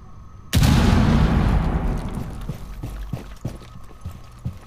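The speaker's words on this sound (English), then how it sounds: "Say I threw a grenade." A grenade detonates in a bank in the shooter Rainbow Six Siege with one sudden, loud blast that rumbles and fades over a few seconds, followed by faint debris and scattered thuds.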